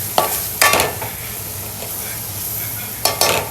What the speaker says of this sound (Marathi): मसाला भाजून घ्यायचा चांगला मसाला भाजलेला मस्त